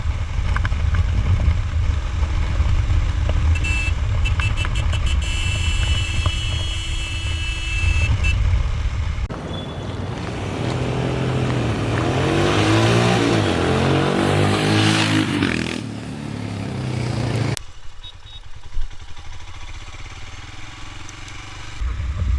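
A Royal Enfield Himalayan BS-IV motorcycle engine idles with a low, steady thump, then revs up in a loud, rising and falling burst before settling back to idle, all close by.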